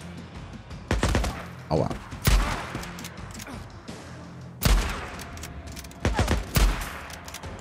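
Rifle gunfire in the zombie game Days Gone: several bursts of sharp, loud shots in clusters with pauses between, close and punchy, and a man's brief pained exclamation in between.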